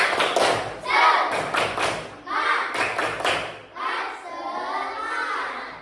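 Children perform the tepuk semangat clapping routine in a classroom, a series of loud rhythmic hand claps and thuds in short bursts, interleaved with kids' voices chanting along.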